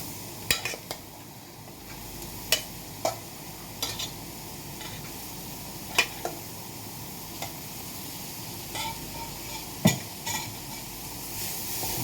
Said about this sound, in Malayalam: നന്നായിട്ട് ഇളക്കി കൊടുക്കാം ഇതൊക്കെ നന്നായിട്ട് വാടണം